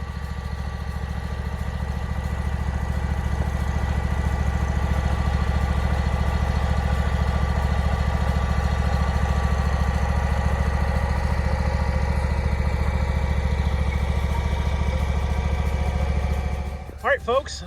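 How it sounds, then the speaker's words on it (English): Steady low engine idle of a harvester at a strawberry field drones on evenly for the whole stretch, a constant mechanical rumble with a brief clatter near the end as it cuts out. "the engine is just idling along"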